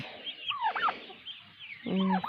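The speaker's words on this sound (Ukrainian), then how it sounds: "Це друга індичка в нас." Turkey hen calls: a couple of warbling, rising-falling gobble-like calls, then a louder burst near the end, close by with faint background noise.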